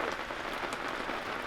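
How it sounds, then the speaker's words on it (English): Steady rain drums on an awning overhead at an outdoor camp, a dense, even hiss of drops with no pauses, close and fairly loud throughout. "Get out the rain, Ronny!"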